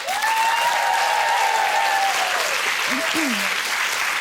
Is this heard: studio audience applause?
yes